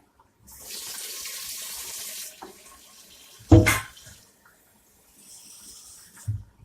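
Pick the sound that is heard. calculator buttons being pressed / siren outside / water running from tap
water running from tap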